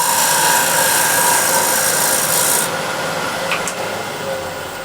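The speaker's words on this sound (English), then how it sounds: "I'm just gliding the scraper on the surface" A bowl scraper glides across a spinning wooden bowl on a lathe with a close, bright rasping hiss that cuts off partway, leaving a softer motor hum and brief scraping touches.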